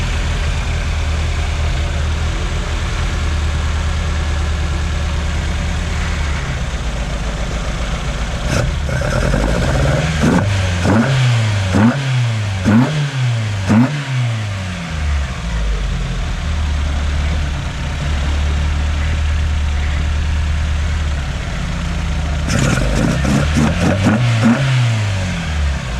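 A carbureted 16-valve Toyota 4AGE engine runs steadily at idle, then gets a series of sharp throttle blips around the middle and a few more near the end. It is loud and close, with a slight uneven misfire character.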